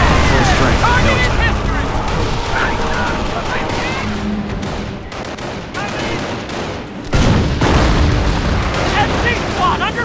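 Dense battlefield gunfire and explosions from the Company of Heroes Carentan counter-attack mission roar almost nonstop, with bursts of shots and deep booms. Game voices call out under the din, which swells louder near the end.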